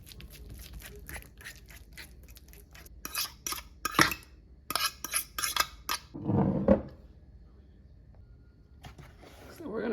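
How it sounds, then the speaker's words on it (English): Very ripe bananas being mashed in a bowl for a banana cake, a quick run of close, wet squishing and clicking strokes of a utensil against the bowl, with a voice speaking between the bursts. "So we're just gonna give that a smash"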